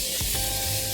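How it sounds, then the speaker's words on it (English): Cooking spray such as Baker's Joy misted into three 8-inch cake pans, a steady close hiss filling the whole second with a couple of brief bumps near the start. "take your baker's joy or whatever cooking spray"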